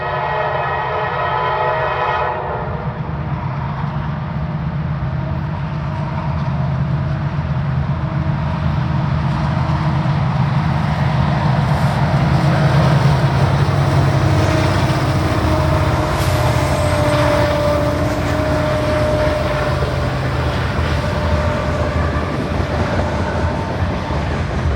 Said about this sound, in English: the sound of EMDs lifting a train out of the Schuylkill River Valley